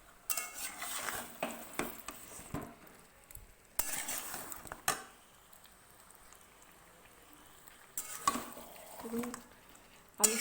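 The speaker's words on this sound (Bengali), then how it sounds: "আলুর সঙ্গে মশলাটাকে মাখিয়ে নিয়েছি।" Spatula scraping and stirring fried potatoes coated in spice paste in a pan, in bursts of clinking and scraping separated by quiet gaps over a faint sizzle.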